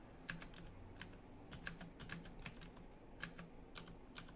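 Computer keyboard typing during a Dungeon Crawl Stone Soup game session: quiet, irregular bursts of clicking keystrokes, some clustered in quick runs, with no talking.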